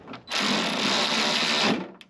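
A power tool drives a screw into a tailgate part on a 2007–2013 BMW X5 (E70), a single whirring burst of about a second and a half that starts and stops sharply, close and fairly loud.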